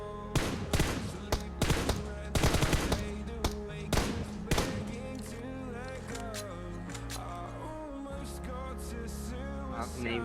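Rapid bursts of gunfire from the PUBG Mobile video game crack out in quick clusters through the first half, then ease off into a steady tonal game background.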